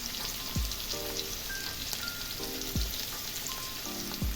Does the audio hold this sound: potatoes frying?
yes